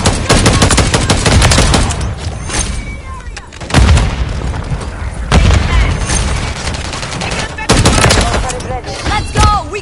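Dense Call of Duty MWIII gunfire rattles in loud bursts of rapid automatic shots and booms, coming in waves with brief lulls, while game voices shout over the battle.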